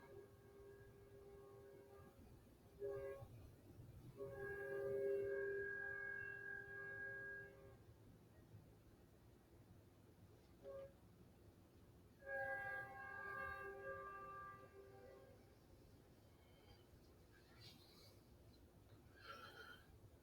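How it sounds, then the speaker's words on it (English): A Metro Link commuter train passes at a distance, a low steady rumble carrying two long, harmonic horn blasts, one early and one later, with the sound rising and fading as it goes by. "So that sounds like a Metro Link."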